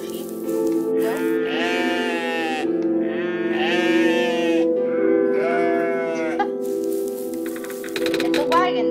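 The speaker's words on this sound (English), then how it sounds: "Hello, sheep." Sheep in the video game OneShot let out several drawn-out, wavering bleats in quick succession, loud and close over a sustained musical drone.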